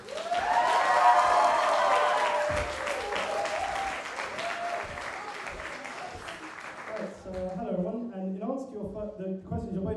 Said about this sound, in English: So make loads of noise for Reuben Williams